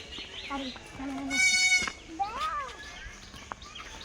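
A young goat bleats several times in short, high, wavering cries, close by, mixed with people talking.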